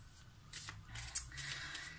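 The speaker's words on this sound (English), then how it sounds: "So I'm just going to shuffle the cards." Tarot cards being shuffled by hand during a reading, a few soft riffling and sliding bursts with small snaps, close and fairly quiet, no voice.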